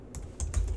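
Three or four quick keystrokes on a computer keyboard, close and fairly quiet, tapped while entering router configuration commands in Cisco Packet Tracer's command-line interface; no voices.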